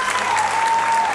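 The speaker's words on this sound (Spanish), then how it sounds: "¡Fuerte el aplauso!" Loud, dense applause from an audience at a Panamanian education medal ceremony, a continuous wash of clapping with a faint steady tone running through it.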